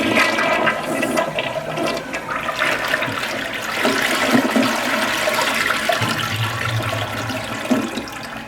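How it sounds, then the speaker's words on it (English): A repaired toilet that had been flushing slowly and clogging repeatedly flushes with a steady, loud rush of water that swirls and drains for several seconds, ending in gurgling refill without voices. "I believe that's flushing better."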